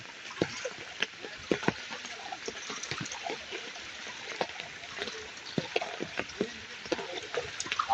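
Muddy floodwater rushing past in a steady broadband wash, close and continuous, with scattered splashes and knocks over the flow.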